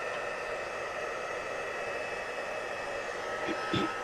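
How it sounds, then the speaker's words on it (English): A Stampin' Up! heat tool runs on its low setting, a steady whirring, hissing rush of air that holds evenly close by, with a couple of faint taps near the end. "I want to get the heat tool onto this. So I'm just going to turn this on"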